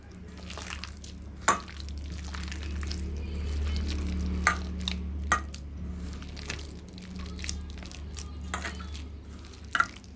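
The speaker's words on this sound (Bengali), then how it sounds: "একটু জল দিচ্ছি। জল দিয়ে দিলাম। ভালোভাবে মিশিয়ে নিচ্ছি।" Banana flower pakora batter being mixed with water by hand, soft wet squishing and occasional sharp clicks over a steady low hum, fairly quiet with no voices.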